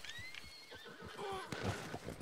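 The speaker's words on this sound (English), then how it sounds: "This fucking horse." A horse in Red Dead Redemption 2 Online gives a loud, close, high whinny that falls in pitch, with snorts and hoof clip-clops beneath it, all in about two seconds.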